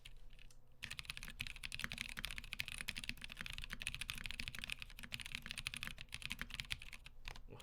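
Rapid, continuous typing on a Tofu65 mechanical keyboard built with lubed Cream switches and EPVT keycaps, a close, quiet stream of overlapping keystrokes that starts after a brief pause.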